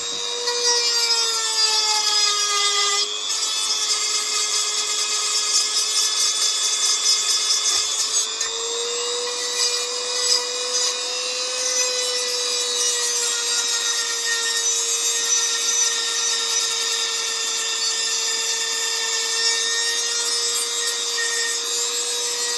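A power sander works steadily on a Xenomorph model, a loud, close, continuous whirring grind whose pitch dips and rises slightly as pressure shifts, with no voices.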